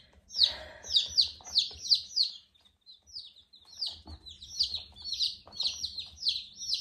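Baby chicks peep in quick repeated high chirps on a farm, a steady rhythmic series of clear close calls with a short pause midway and faint background rumble.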